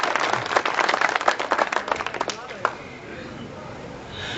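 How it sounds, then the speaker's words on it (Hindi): An audience at a Hindi poetry recital in Faizabad claps in a dense burst of applause that peaks and then fades quickly, giving way to a quieter room. "अगर आपका मन हो तो एक बार जोरदार तालियां बजाएं"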